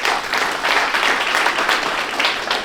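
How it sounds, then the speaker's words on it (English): A crowd at a boxing and combat sports awards gathering in Oklahoma breaks into steady, dense applause for an absent award winner, loud and continuous throughout. "let's give him a round of applause"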